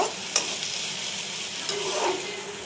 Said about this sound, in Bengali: এখানে পেঁয়াজ মরিচ দিয়ে দিচ্ছি কড়াইতে তো পেঁয়াজ মরিচটা ভালো করে ভেজে নিব